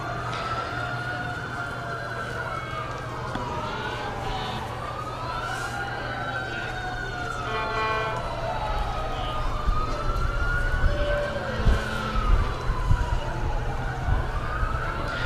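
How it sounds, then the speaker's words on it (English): Several sirens from a parade, including a police department, wail and sweep in overlapping rising and falling tones, with horn blasts joining toward the end over a steady background rumble. "listen to all the whistles and horns and sirens as they come through"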